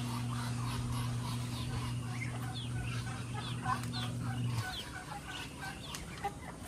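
Pet ducks kept in a backyard, clucking and quacking in scattered bursts over a steady low hum that cuts off partway, then more calls continue close by.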